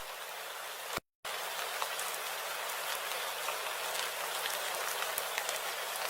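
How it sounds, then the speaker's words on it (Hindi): Steady cartoon rain hisses evenly and continuously, a dense wash of fine patter at moderate level, broken by a moment of complete silence near the start before resuming unchanged. "हरी की पुकारें बारिश की आवाज में डूब जाती हैं"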